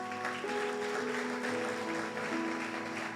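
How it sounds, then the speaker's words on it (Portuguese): A church congregation applauds steadily, a soft, even wash of clapping that holds for a few seconds while sustained organ or keyboard tones ring underneath. "Você pode aplaudir o nome do Senhor por isso?"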